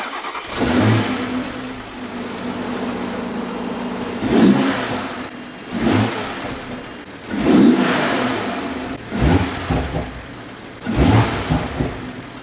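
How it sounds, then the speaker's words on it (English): Toyota Supra engine with an Armaspeed intake cold-starting, heard close at the intake: a rough idle broken by several sharp throttle blips and revs that rise and fall every couple of seconds. "I'm gonna set it right here next to the intake to get this cold start."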